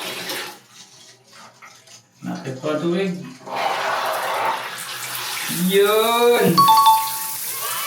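Water from a newly installed overhead shower in a home bathroom runs in a steady broadband hiss, while people talk over it and an exclamation rises near the end.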